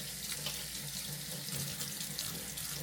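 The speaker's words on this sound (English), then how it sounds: "So I'm just gonna scrub with hot water" Hot water runs steadily from a tap while a surface is scrubbed by hand, a continuous close splashing rush with no talking.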